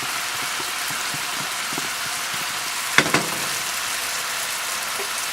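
Shallot sizzling in a frying pan as it is added: steady, close frying hiss throughout, with a brief louder crackle partway through, and no talking.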